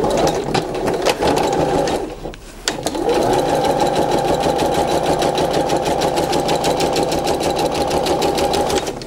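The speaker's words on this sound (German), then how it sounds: "nähen hier an den Seiten mit 1/4 Inch Nahtzugabe einfach von oben nach unten" Sewing machine stitching the side seams of a Churn Dash patchwork quilt block with a quarter-inch seam allowance, a loud, close, steady rapid whir that pauses briefly and then runs on continuously.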